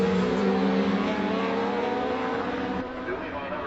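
Onboard engine noise from the leading racer's vehicle lapping the Cookstown road racing circuit: a loud, close, continuous high-revving drone with steady pitch, slightly easing near the end.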